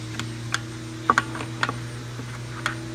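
A Tesla Model 3 frunk latch mechanism is worked by hand with a screwdriver, giving a few faint, sparse mechanical clicks and ticks over a low steady hum.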